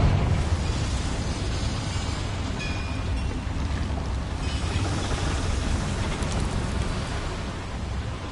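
Confringo fire spell in Hogwarts Legacy, a sustained loud roaring blast with crackling, rushing noise that fills the whole stretch without letup.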